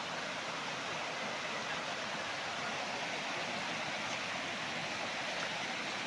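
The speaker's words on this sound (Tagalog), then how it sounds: "Ang sarap pakinggan ng agos ng tubig." A river runs along the boundary of a farm lot in Majayjay, Laguna, its flowing water a steady, dense rushing wash that holds constant and fairly close throughout, with no voices.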